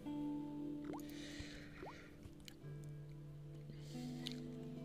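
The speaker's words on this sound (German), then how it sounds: "Der Wasserhahn knarrt, hustet und spuckt einen Strom von rostfarbenem Wasser aus." A creaking tap in the video game Broken Sword: The Shadow of the Templars coughs and spits out rusty water, giving faint drips and a few short squeaky rising creaks over a steady low musical hum.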